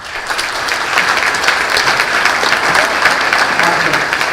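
Sustained applause from an audience at a community forum on housing and homelessness, steady and full with dense clapping throughout, no talk over it.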